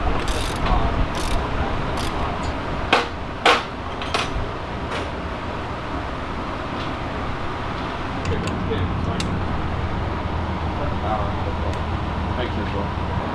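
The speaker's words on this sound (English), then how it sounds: "Get a ratchet wrench, pull these out, and I'll pull them up." Quick ratchet wrench clicks come in short bursts early on while fuel lines are pulled at a busy race pit, set against constant background noise and voices.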